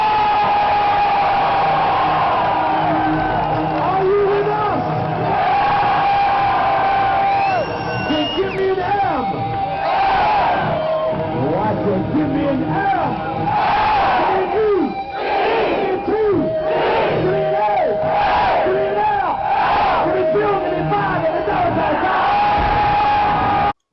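Large festival crowd at Download Scotland 2004 on Glasgow Green, roaring and shouting continuously throughout, with surging whoops and cheers rising in waves; dense, loud and close, as if heard from inside the audience.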